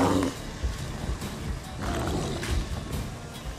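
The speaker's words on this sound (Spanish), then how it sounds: "¡Uy, un oso!" A bear growls in The Witcher 3 video game, a low rumbling roar that rises and falls in gruff pulses under faint game ambience.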